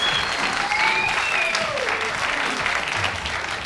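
An audience claps at a stage show, a dense and loud wash of applause that carries on without pause, with a few faint whistles rising above it.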